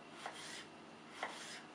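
A knife chops a cucumber into strips on a board, three soft cuts spaced evenly apart, quiet and close with no talking.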